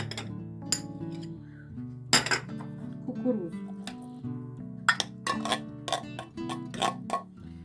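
Fried mushroom, egg and garlic filling for stuffed baked potatoes being stirred in a bowl, with repeated bright clinks and scrapes of a utensil against the dish in irregular bursts over soft background music.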